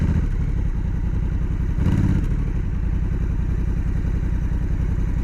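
A motorcycle sits on a steep, soft sand hill, its engine running at a steady, loud, close mechanical chug and clatter with a brief surge partway through, with no voices.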